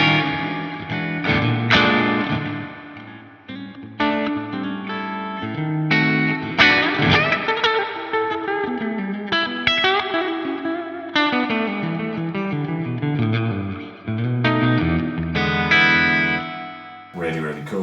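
An electric guitar plays chords through a Laney spring reverb pedal, each struck chord ringing out with a washy, springy tail and occasional abrupt stops that leave the reverb decaying, loud and alone.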